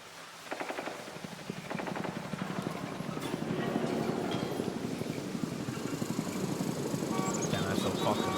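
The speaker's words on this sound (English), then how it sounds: "this is what the distant ambient helicopter sounds like in Warframe 1999" A distant ambient helicopter in the video game Warframe 1999, its steady rotor thrum pulsing beneath dense layered ambience, with a constant low throb and scattered higher clatter.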